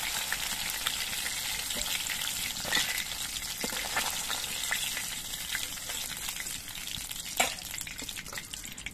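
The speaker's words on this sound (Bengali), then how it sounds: "বাকি মাছগুলো একইভাবে ভেজে নিচ্ছি।" Pabda fish frying in hot oil in a pan, a steady close crackling sizzle throughout with occasional sharper pops and spatters.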